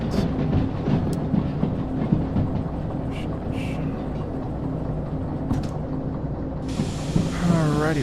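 A train runs along rails in the Derail Valley simulator, a steady rumbling clickety-clack with hissing and brief mechanical squeals over the continuous drone.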